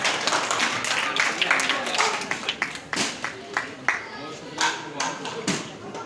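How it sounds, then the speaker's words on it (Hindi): Scattered clapping from an audience at a prize-distribution event, irregular bursts of claps rising and fading while someone talks over them. "तालियां वालों कंजूसी ना करो सर"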